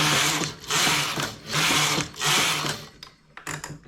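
A knitting machine working a double-ribbed sleeve cuff, with loud rhythmic whooshing carriage passes about once per second, each followed by mechanical clacks and rattles, no talking.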